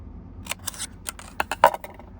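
Close-up scissors snipping through a paper card being cut out for a stamp-and-die project, a run of short crisp cuts with irregular rhythm and a louder cluster near the end, no voices.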